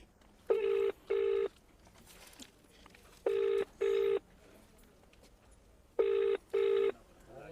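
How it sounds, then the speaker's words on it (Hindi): Three pairs of telephone dial tones play as a call is placed, the tones evenly spaced and clear over faint background noise. "मैं एसडीओ को फ़ोन लगा रहा हूँ"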